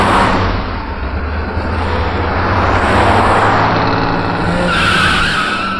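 A car skids with tires squealing continuously and loudly through a chase scene in a 2004 Hindi action film, the engine roaring underneath, with no speech.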